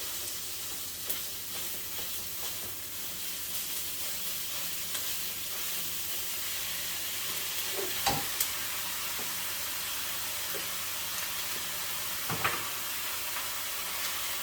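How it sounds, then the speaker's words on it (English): Meat, onions and garlic brown in a pan for a low-carb bolognaise sauce, giving a steady, even sizzle and hiss with a few soft stirring knocks and no talk. "Now my meat's browned off nicely and the onions and garlic's mixed through beautifully"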